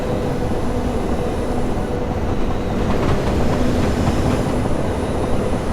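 A Class 455 electric train runs at speed in Train Simulator 2018, giving a loud continuous rumble and hiss of motor and wheels with faint rhythmic rail clatter.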